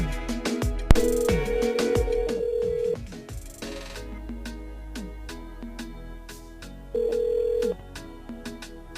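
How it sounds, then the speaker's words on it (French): A telephone rings out on a radio call-in show as the host dials a listener, with two long ring bursts separated by a pause over faint background music and clicks. "Et nous sommes du côté du sud, on appelle Sabrina."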